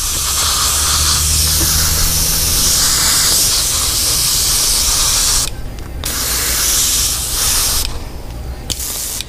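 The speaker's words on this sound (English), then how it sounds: "you just kind of randomize how you're spraying it" Spray paint hisses onto a swimbait lure in loud, close bursts, broken by two short pauses near the end.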